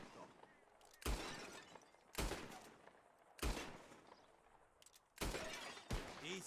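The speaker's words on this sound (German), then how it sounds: "Come on, man, let's shoot!" Four sharp revolver shots ring out in a Red Dead Redemption 2 shooting contest, spaced about a second apart, loud and close, with a background voice murmuring between blasts.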